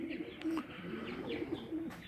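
Saddleback homer pigeons in a loft coo softly and continuously at close range, with a low, rolling burble and faint rustling underneath.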